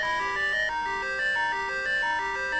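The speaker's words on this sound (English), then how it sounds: "God, this music is so friggin' unsettling in some ways." Ambient dungeon music plays in a Legend of Zelda video game, a thin, chiming melody of repeating electronic notes with an eerie, unsettling feel, steady and moderately quiet with no voices over it.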